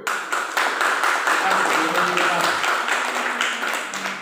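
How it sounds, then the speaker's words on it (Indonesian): Church congregation clapping hands together in a steady burst of applause, moderately loud and sustained for a few seconds in a hall. "Tepuk tangan dulu, yuk"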